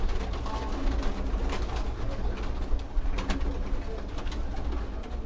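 Breeder pigeons on a rooftop in Punjab, Pakistan, cooing softly and repeatedly amid a busy mix of fluttering, clattering and steady outdoor background noise, moderately close.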